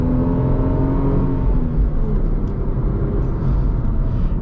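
A 2001 Lexus IS300 with a naturally aspirated 2JZ engine revs steadily and loudly up close, a continuous rising engine drone with no pauses and no talking.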